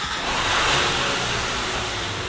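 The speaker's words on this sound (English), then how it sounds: "going to start the car now because we need the power assist brakes" A car engine runs steadily in a workshop with the wheels raised, a loud, continuous mid-pitched drone with a slight swell in revs, heard alone without talk.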